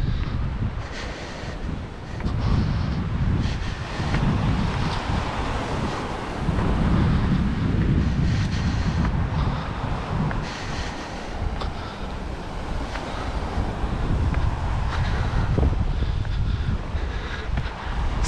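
Wind gusts from a sea breeze buffet the microphone in a continuous rumbling roar, with the wash of sea waves blending in at the shore.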